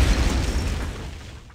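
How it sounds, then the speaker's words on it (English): A grenade blast in the tactical shooter game Rogue Spear with the NATO v3 mod, a loud low boom right at the start that rolls off and decays over about a second and a half. "Grenade!"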